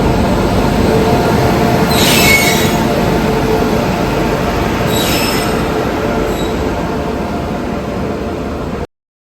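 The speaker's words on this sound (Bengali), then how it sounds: "আমাদের ট্রেন ঢুকে যাচ্ছে" A passenger train pulls into a station in Assam, rumbling loudly and continuously with metallic wheel squeals rising twice, before the sound cuts off abruptly.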